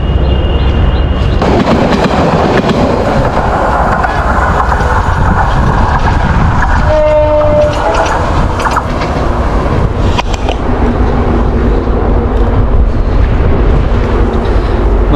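A train rolls through a railway crossing near Feni, loud and close, with a continuous roar of wheels and rumble, a brief horn-like tone in the middle and steady rattling carried on to the end.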